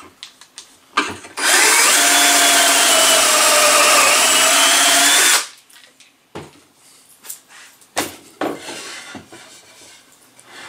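A power drill drives a 1-inch screw into wooden boards for a DIY holiday decoration, a loud whirring run lasting about four seconds, then scattered knocks and taps as the boards are handled.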